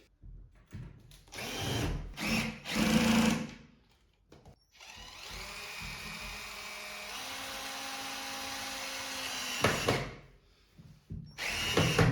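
A power drill whirs in several short bursts, then runs in one long sustained spin before stopping, followed by another quick burst, driving screws into the wood panels of an IKEA Brimnes wardrobe; close and clear.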